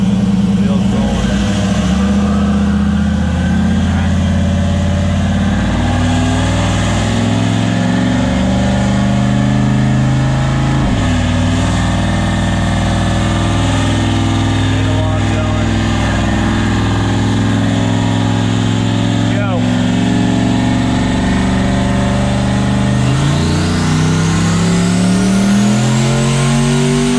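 A turbocharged race car running 30 psi of boost idles loudly, then revs and pulls away, with rising and falling engine pitch through gear changes, close and continuous.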